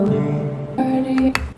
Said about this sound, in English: I just put these vocal chops, chop them, put in the sampler, play on my MIDI, and it sounds like this.